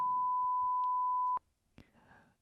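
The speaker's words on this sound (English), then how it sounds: "can you beep it one more time?" A steady electronic beep tone holding for over a second at a single pitch, followed by a couple of soft clicks and faint murmuring afterward.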